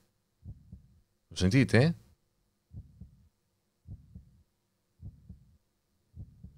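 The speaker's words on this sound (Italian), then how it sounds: "Cos'è il cuore che batte?" Heartbeat effect in the horror video game Ergastulum: slow, regular, muffled low thumps, about six beats roughly a second apart, with a short spoken question cutting in near the start.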